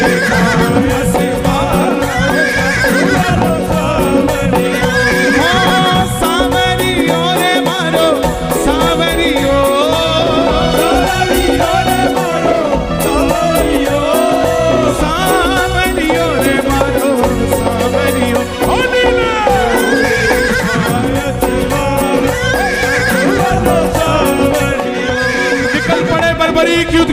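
A horse neighs and whinnies with faint clip-clop of hooves, set within loud, continuous devotional music throughout.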